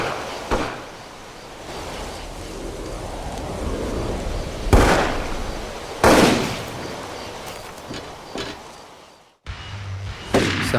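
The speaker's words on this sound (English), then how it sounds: "Somebody's shooting." Gunshots ring out in the game Overclocked: A History of Violence, a few sharp loud cracks spaced apart over a steady rumbling background, with a brief silence near the end.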